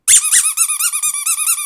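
A small Chihuahua, just woken, lets out a rapid run of high, whiny yaps that slide into a sustained squealing whine, close and loud with no talk over it.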